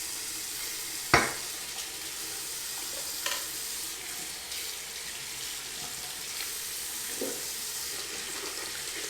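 Water runs in a steady hiss while flushing fouling from a cap and ball revolver, with a sharp knock early on and a few faint clinks over the constant flow.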